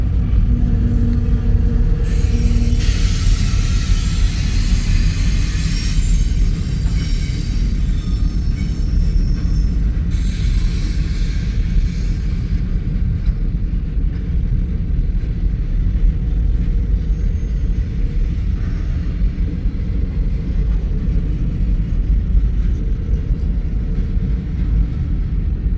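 A freight train with a mid-train DPU locomotive rolls past in early-morning Fremont, Nebraska, a loud, continuous rumble lasting the whole stretch, with brief wheel squeal near the start and no voices.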